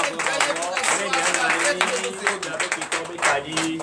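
A congregation applauds during a Sunday church service, with dense, continuous clapping and crowd noise filling the room while a voice talks over it.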